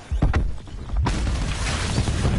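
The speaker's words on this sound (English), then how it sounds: "Cluster grenade going out." A cluster grenade going off in the video game Black Ops 4: a few dull thuds, then a sudden loud blast that spreads into a sustained roaring, crackling wash of explosions.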